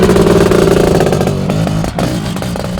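A 1995 Honda CR500 two-stroke dirt bike roars loudly and steadily on a motocross track, the engine held at high revs close by with a brief dip before pulling hard again.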